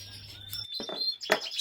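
Lizard canaries in an aviary give bright chirps and short tweets, close and moderately loud, with a sharp high call near the end and no talk.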